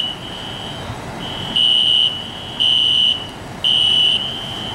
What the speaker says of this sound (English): apparently the fire alarms are going back on again